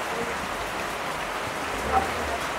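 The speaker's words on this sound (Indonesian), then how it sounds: "Hujan-hujan tuh, hujan turun guys, pas banget" Steady rain falls at a roadside seafood stall, a soft continuous hiss of drops on surfaces with a faint brief tap near the end, no voices.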